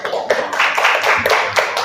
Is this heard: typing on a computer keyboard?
no